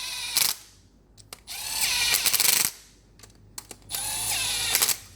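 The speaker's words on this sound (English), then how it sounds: "I don't have the gun at full power because I don't want to thread the actual bolt or snap it." Impact gun driving a 12 mm bolt at reduced power while changing injectors on a 4JJ1 diesel engine, in three loud close bursts of rattling hammering separated by short pauses and mechanical clicks.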